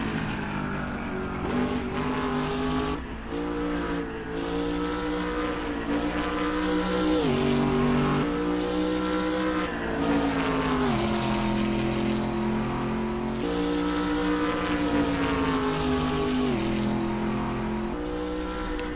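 BMW Z4 GT3 race car engine in the Assetto Corsa racing game, a loud steady drone with repeated rises and falls in pitch as it accelerates and shifts gears, continuous and close with no talk.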